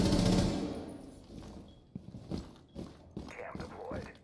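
Gunfire from a rifle in Rainbow Six Siege, several short bursts of shots with mechanical clatter at moderate level, partly under a voice.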